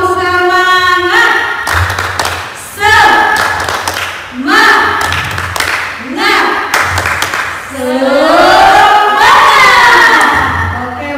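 Sunday school children at an online church service clap a spirited rhythmic pattern in short bursts, while voices chant loudly along between and over the claps.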